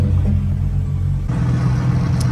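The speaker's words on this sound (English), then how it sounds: "I'm gonna let the car warm up" A tuned 8Y Audi S3 warms up at idle, giving a loud, steady, deep rumble that continues without a break and with no voices.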